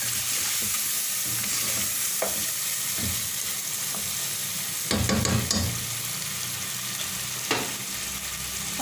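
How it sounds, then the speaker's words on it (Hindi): Chicken salan with tender meat and masala stirred and fried in a pot, a steady close sizzle with repeated scraping and clattering stir strokes, busiest around the middle. "अच्छी तरह से मिक्स कर लेंगे और 1-2 मिनट इसको अच्छी तरह से भूनेंगे।"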